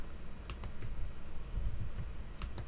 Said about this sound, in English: you're gonna type in Facebook